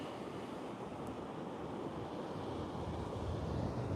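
Strong wind buffets the microphone in a constant roaring rush on a beach, with surf washing underneath and no voices.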